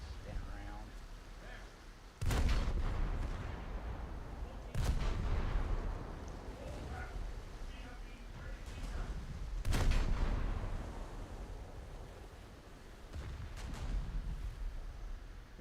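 Heavy battleship turret guns in World of Warships fire in three or four big booming salvos spaced several seconds apart, each a sharp loud blast fading into rumble, with faint voices underneath.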